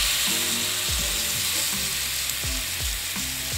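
Steady loud sizzling of food frying on a hot camping griddle, with occasional scraping and clinking of a utensil, no voices.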